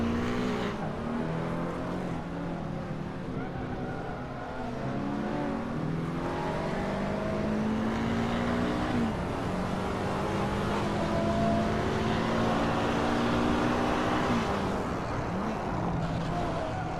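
Toy-style race cars in the Hot Wheels Unleashed video game roar continuously with layered engine whines rising and falling in pitch as they accelerate and pass, a dense loud stream of motor sound throughout.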